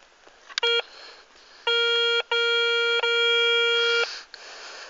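Metal detector in a field in the Vosges giving electronic signal tones over a buried target: a short beep, then two long steady harmonic tones separated by brief gaps, loud and clear against quiet outdoor background.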